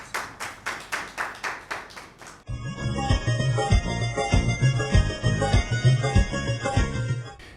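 Audience applause at a poetry mushaira held for Pakistan's Independence Day: evenly spaced rhythmic claps for a couple of seconds, then a denser, louder passage of clapping mixed with ringing tonal sound and beat-like hits.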